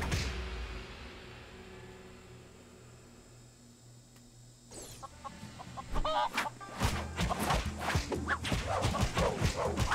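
Master Chicken in The LEGO Ninjago Movie Videogame clucks and squawks. After a quieter stretch of game background sound, a loud, dense run of rapid clucks fills the second half, mixed with other game effects.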